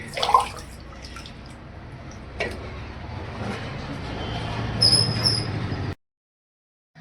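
Water running into a bucket, a steady rushing hiss of the filling stream with an occasional squeak and splash, fairly close, continuing for several seconds and then stopping abruptly.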